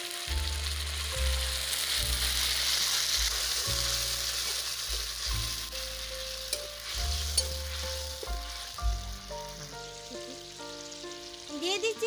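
Ground ginger, garlic, onion and tomato pastes with a splash of water fry and get stirred in a pan for an egg curry, a steady hissing sizzle beneath louder melodic background music, with occasional stirring knocks.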